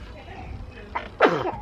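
A single sharp sneeze bursts out near the end, following a few seconds of quiet indoor murmuring and shuffling.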